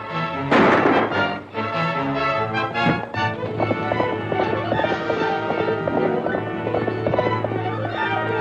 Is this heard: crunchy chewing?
no